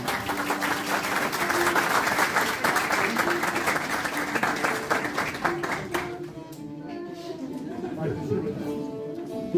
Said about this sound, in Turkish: O yüzden ailelerine şöyle kuvvetli bir alkış alabilir miyiz?